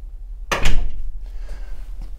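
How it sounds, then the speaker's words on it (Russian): An entrance door is shut with a single heavy thud, a sharp loud impact followed by a short low rumble that fades out. "когда вы закрыли дверь"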